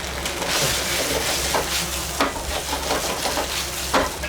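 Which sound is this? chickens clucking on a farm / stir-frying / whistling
stir-frying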